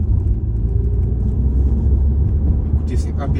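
A third-generation Audi A3 Sportback 2.0 TDI diesel with S-tronic gearbox accelerates along a straight road, heard from inside as a loud, continuous low engine and road rumble, with a brief voice near the end.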